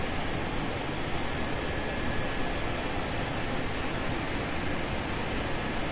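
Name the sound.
rocket engines running in the video game Stone to Space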